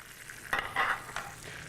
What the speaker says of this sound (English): We keep basting this a little bit more.